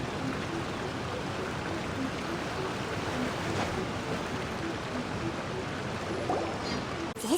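Steady rushing of a waterfall in the Genshin Impact video game, a continuous broadband wash of falling water holding evenly throughout with no break.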